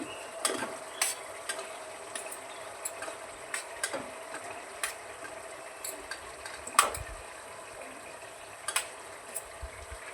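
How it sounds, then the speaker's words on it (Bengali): Cauliflower florets fry in hot spiced oil for a winter katla fish curry, a steady sizzling hiss broken by sharp, repeated spatula clinks and scrapes against the pan, close and without voices. "মশলা থেকে ভালো করে তেল ছেড়ে এসছে ফুলকপিগুলি এবার ছেড়ে দিচ্ছি"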